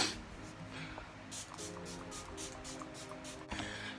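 Several short, quiet hissing spritzes of a makeup setting spray bottle repeat in quick succession, close by in a quiet room.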